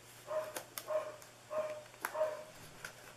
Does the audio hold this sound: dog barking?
yes